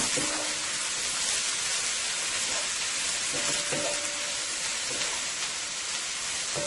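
Chicken and beef fried rice sautéing in a pan, Guyanese style: a steady, soft sizzle with faint scraping and tossing sounds, even and continuous, with occasional light clinks of a utensil.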